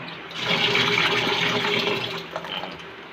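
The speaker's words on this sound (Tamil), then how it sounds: "தண்ணியில் போட்டு கொஞ்சம் ஊற வச்சுருங்க. இன்னும் ஒரு தண்ணி கூட பிடிச்சிருங்க" Tap water gushes into a basin to soak freshly picked leafy greens, a continuous close splashing rush that eases slightly toward the end.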